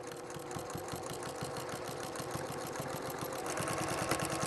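Sewing machine running steadily in a fast, even stitching rhythm as it seals the edge of a fur and flannel throw, close and continuous with a mechanical whir underneath.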